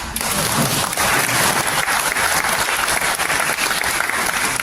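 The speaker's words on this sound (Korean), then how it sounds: "박수 한번." A congregation at a memorial worship service for a Korean general bursts into loud, sustained applause that stays full and even from start to finish.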